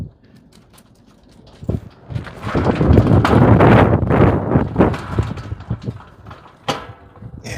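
Gusty outdoor wind buffets the microphone, rising into a loud, rumbling roar for a few seconds in the middle, then easing into intermittent thumps and flutters.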